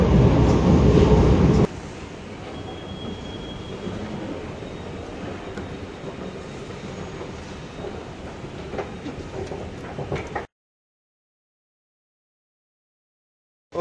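A short ride on a metro train, loud at first, then a steady rumble and rattle of the moving carriage with faint clicks, running for about ten seconds before cutting to silence.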